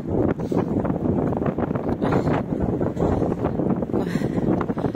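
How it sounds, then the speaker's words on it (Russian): Strong wind buffeting the microphone outdoors in Odessa in December, a constant loud roaring rush with gusty surges throughout. "Ох, ты посмотри, какой ветер."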